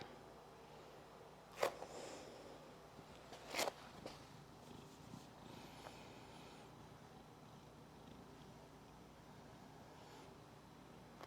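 A cat purring close by indoors as a quiet, steady low rumble, with two sharp clicks or taps early on and faint room noise throughout.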